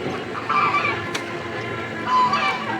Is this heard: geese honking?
yes